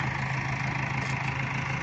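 A Başak 2110 110-horsepower tractor's diesel engine runs steadily at idle, a constant low rumble close by with no pauses.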